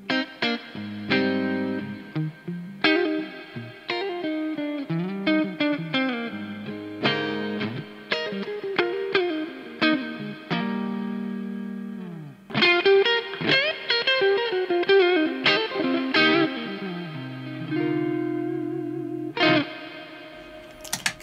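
An electric guitar played through the spring reverb of a NUX Cerberus multi-effects pedal rings out in chords and picked notes, each attack trailing a splashy, drippy reverberant tail over a long solo passage.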